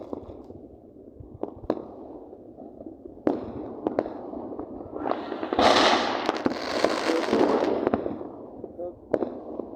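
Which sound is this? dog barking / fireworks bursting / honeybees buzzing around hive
fireworks bursting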